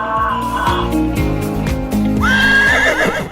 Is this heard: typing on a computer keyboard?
no